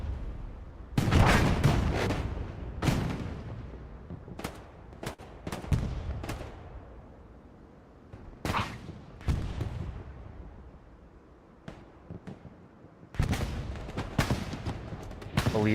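Artillery fire in the WWII shooter Hell Let Loose: repeated heavy booms and blasts, some near and loud, others more distant, fall in irregular clusters with rumbling decays between them.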